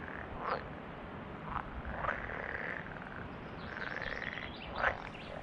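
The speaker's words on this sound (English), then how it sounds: "The pond frog likes warm weather, a living fossil from a warmer time." Pond frogs call from the water of a nature reserve, a few short raspy croaks spaced seconds apart over a constant low outdoor hum, the last croak the loudest and closest.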